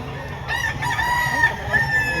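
A rooster crows at a busy chicken market in Lipa, Batangas, its long calls rising over a steady crowd murmur, with chickens clucking close by.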